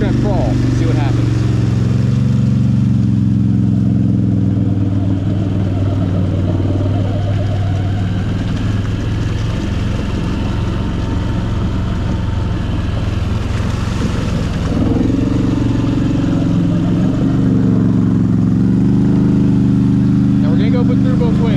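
A Can-Am Outlander 850 XMR ATV crawls through a sand pit in forward low gear, its engine a steady, loud low drone that swells and settles throughout, with a voice talking over it.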